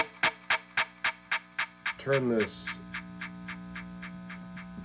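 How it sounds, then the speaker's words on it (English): Monkey Riot Tempus Fuzz pedal with its echo effect engaged, a steady run of evenly spaced fuzzy guitar notes repeating with echo, broken midway by a brief knob turn and a short spoken phrase, then a low sustained tone. "So let's throw a little bit of this echo on,"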